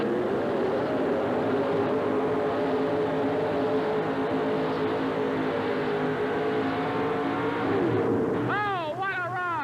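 A Chevrolet 4wd pulling truck roars through a sled pull at a 1988 Birmingham truck and tractor pulling event, its engine a loud sustained howl rising in pitch, ending with revving swoops, under an announcer's voice.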